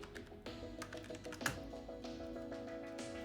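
Quick, steady run of light key clicks from typing on a computer keyboard, close and fairly quiet, with one slightly harder tap midway.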